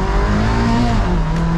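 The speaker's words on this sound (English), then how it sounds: "if we accelerate full throttle here" A car fitted with an OS Giken SuperLock differential roars steadily at full throttle, loud and close, its pitch climbing slightly, with no one talking.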